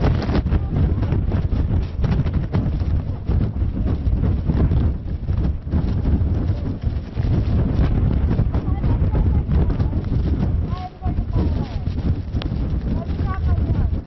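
Strong wind gusts buffeting the microphone of a reporter standing outdoors in 24-degree cold with light snow possible, a constant heavy low rumbling roar that barely lets up, while a voice talks faintly underneath.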